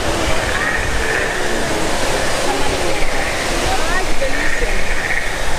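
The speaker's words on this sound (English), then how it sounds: "Look at the waterfalls they have over here." Artificial waterfalls at Pandora in Disney's Animal Kingdom give off a loud, steady rushing roar that fills the scene, with faint crowd voices blended underneath.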